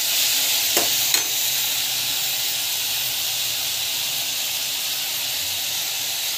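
Tomato sautés in a hot pan with a continuous loud sizzle and hiss, plus a couple of brief stirring knocks near the start.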